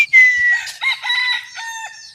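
A rooster crows once, close and loud, a high, strained call that rises and then trails off over about two seconds.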